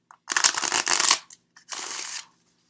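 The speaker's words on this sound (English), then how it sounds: "I'm going to pull a card from the Oracle deck and see what's happening." A deck of oracle cards is shuffled in two quick riffling bursts, the first longer and the second shorter, with a brief pause between them. The papery rustle is close and clear, with no talking.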